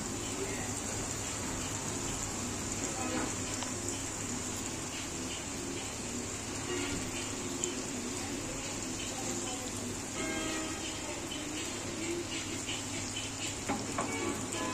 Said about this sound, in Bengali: ভাজা হোক, লাল লাল ভাজা হয়ে গেলে নামিয়ে দেবো